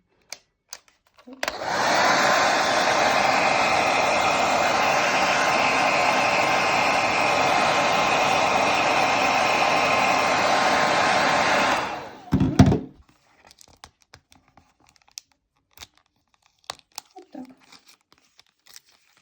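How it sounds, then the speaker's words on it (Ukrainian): A hair dryer runs at full blast on maximum heat for about ten seconds, warming a book's plastic cover, with a steady whooshing roar, then cuts off, followed by faint clicks and handling noises. "Включаю на максимальну температуру фен і трошки прогріваю."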